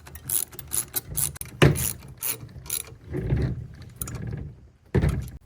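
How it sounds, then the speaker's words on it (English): A 13 mm ratchet tightens bolts on a retractable bumper step being fitted to a 2020+ Chevrolet Silverado HD, with loud, close clicking pawl runs in repeated quick bursts and short pauses between strokes. "So I'm going to get my 13 millimeter and tighten these up"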